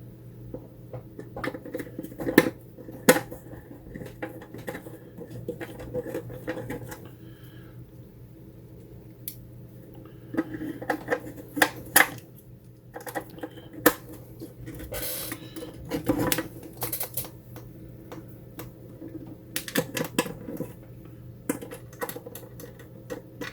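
Mechanical clicks, taps and clattering of tools working on an AromaO2 oxygen device as it is bolted back down, irregular close bursts over a steady low hum.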